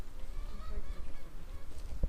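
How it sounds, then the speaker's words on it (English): Chickens and hens at a camping site in the Alps cluck and call softly nearby, a low scattered fowl chatter with one sharper squawk near the end. "this camping site is that it has chickens and hens"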